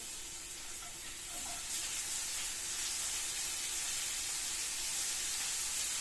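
Hot oil sizzling in a frying pan as onion is sautéed, an even, continuous hiss heard up close that swells slightly after the first second and holds steady.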